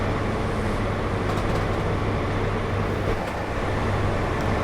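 An HST train's diesel engine drones in Train Simulator 2021, a loud, steady rumble with a constant hum that carries on evenly throughout.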